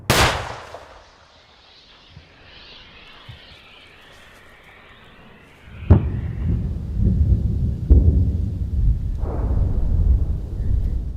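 Gunfire and explosions during Ukraine's counteroffensive near Orikhiv: a sharp blast opens, then after a quiet stretch heavy booms and scattered shots roll in, leaving a loud rumbling backdrop.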